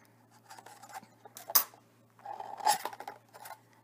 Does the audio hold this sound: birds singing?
no